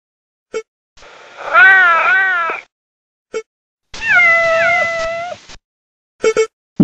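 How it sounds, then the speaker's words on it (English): A cat lets out two long, drawn-out meows, loud and close, with brief short clicks before, between and after. "cat"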